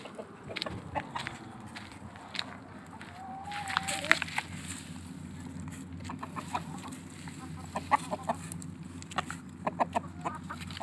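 Chickens cluck in a Kazakh farmyard as they and the geese are let out and given grass, with short scattered calls over a steady low rural background; a few louder clucks stand out, and no one speaks.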